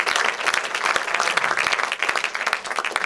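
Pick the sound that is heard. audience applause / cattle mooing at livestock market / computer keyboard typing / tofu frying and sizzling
audience applause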